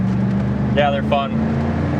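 A 1993 Pontiac Trans Am with low miles accelerating on the road, heard from inside as a steady low engine drone with road rumble, while a voice briefly speaks over it.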